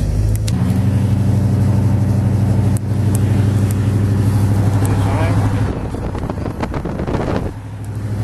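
A hot rod car engine with magnaflow-style exhaust rumbles loud and close, a deep steady idle that shifts pitch partway through, revs briefly, then settles, with no voices over it.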